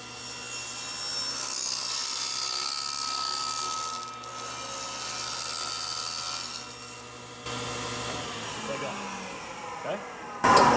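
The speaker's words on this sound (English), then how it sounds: "we're going to cut a strip right across the top of this piece of hardwood" A power tool cuts a strip across the top of a piece of hardwood for a rat trap pull-trigger mod, making a sustained, rough whirring rasp that dips briefly and then ends with a sharp clunk.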